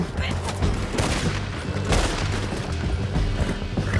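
Gunfire in Red Dead Redemption 2 during a chaotic canyon shootout, a dense fusillade of shots and booms rolling continuously over a low drone, with shouting voices mixed in.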